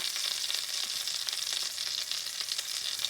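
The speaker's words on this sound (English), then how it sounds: "These are homemade sausages. They're still connected. Some thick cut bacon. I'm cooking it on a really low heat." Homemade linked sausages and thick cut bacon fry over really low heat in a pan inside a tiny house RV, giving a soft, even, continuous sizzle with faint crackles and no talking.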